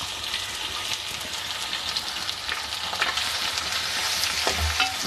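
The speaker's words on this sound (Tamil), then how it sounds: "அப்புறம் கருவேப்பிலை போட்டு எல்லாம் பொரிஞ்சு வந்ததும் வெங்காயம் போட்டு நல்லா வதக்கிக்கோங்க." Onions with curry leaves sautéing in hot oil in a pan for a bottle gourd and prawn curry, a dense steady sizzle with spatula stirs and scrapes rising toward the end, no talking.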